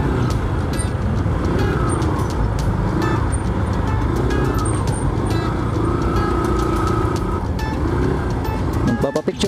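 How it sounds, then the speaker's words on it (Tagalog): Heavy street traffic in Ortigas, with a dense, steady roadway rumble of cars and buses close by, voices and horn-like tones mixed in throughout. "Sobrang traffic."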